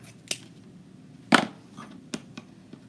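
Scissors snip through stiff ribbon while a bow is being trimmed: a few sharp, isolated clicks, with one louder close cut in the middle and fainter snips around it.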